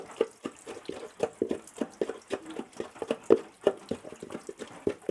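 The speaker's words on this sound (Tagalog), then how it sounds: "Tapos ilagay natin ng tubig." Water is poured onto chili seeds, producing a rhythmic run of close, distinct splashes and drips that keeps going without pause, with no voices.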